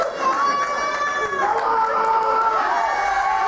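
A crowd at an independent wrestling show roars and cheers in a sustained wash of voices, loud throughout, with a commentator talking over part of it.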